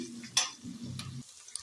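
Mutton pieces go into a frying pan and get stirred while cooking, giving a soft sizzle with scraping spoon strokes and a clack, close and brief.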